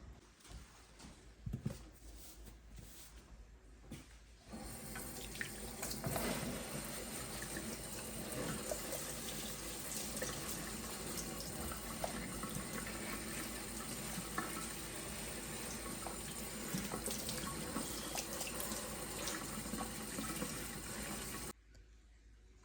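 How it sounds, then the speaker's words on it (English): Water runs steadily into a freshly repotted indoor houseplant, a close, continuous splashing pour that lasts about seventeen seconds before cutting off. Brief handling noises come just before it. "let's go water this guy in"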